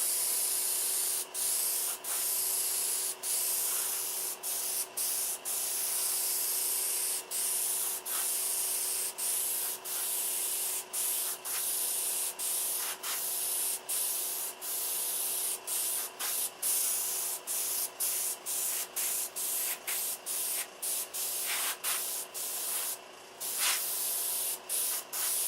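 Repeated short bursts of spray paint hiss as an airbrush or spray can coats a model aircraft canopy and cockpit with a second coat, steady and close with brief pauses between passes.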